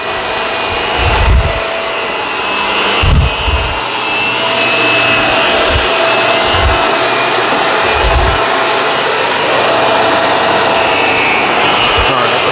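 A Shark Rotator or Dyson Ball vacuum cleaner drones loudly and continuously while sucking up dirt, with occasional low thumps and bumps as it moves across the floor.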